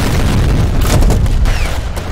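In the online shooter F.E.A.R. Combat, a grenade goes off as a loud, close boom followed by rumbling debris and scattered crackling bursts.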